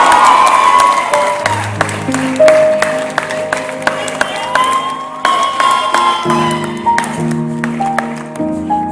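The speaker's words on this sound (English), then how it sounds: "You can applaud them because they are very popular." An audience at a college convocation applauding award winners, steady loud clapping throughout with music playing underneath and a few cheers.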